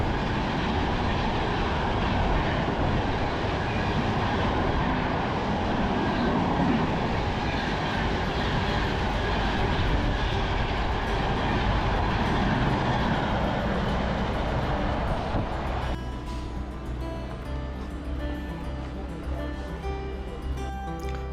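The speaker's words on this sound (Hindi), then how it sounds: "अब ये दूसरी ट्रेन प्लेटफॉर्म नंबर 4 से थ्रू जा रही थी" A train runs straight through platform 4 at a railway junction, a loud, sustained roar of rolling wheels and rattling wagons close by that drops away abruptly near the end, leaving quieter station rumble.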